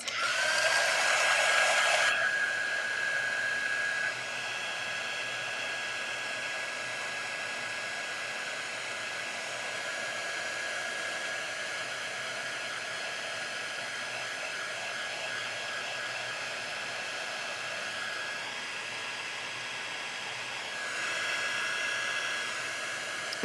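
A hair dryer blows steadily on a stained glass stencil design, a loud, close, continuous whooshing roar with a high whine that shifts slightly in pitch partway through, with no voices.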